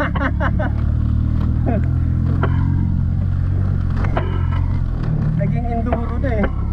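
A motorcycle, converted for enduro use, ridden on remote back roads near a beach resort in Unisan, Quezon, with a loud, steady engine drone close by and someone talking over it.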